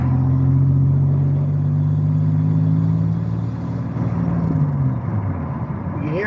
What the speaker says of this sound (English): you can hear the turbo maybe a little bit